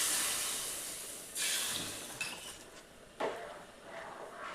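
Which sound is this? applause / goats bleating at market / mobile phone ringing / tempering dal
tempering dal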